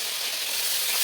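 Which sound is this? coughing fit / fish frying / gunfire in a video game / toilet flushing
fish frying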